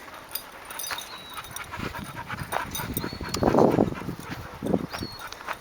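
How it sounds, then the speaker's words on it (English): A small wolf-like dog whimpers and lets out short high whines, with brief louder yelps near the middle and end, close by in a quiet outdoor setting. "And there's a little Blondie, the little wolf dog."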